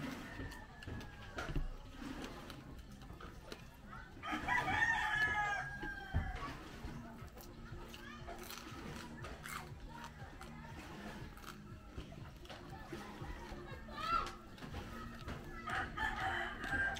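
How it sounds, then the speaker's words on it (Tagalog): A hen clucks and crows in repeated bursts, with a louder squawking call partway through and more calls near the end, while a person talks nearby. "maingay yung manok doon kasi gusto nang mangitlog"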